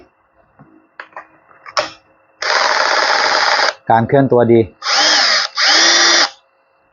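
A power drill used only for drilling concrete whirs in several loud, close bursts of a few seconds each, separated by short pauses, with someone talking before and between them.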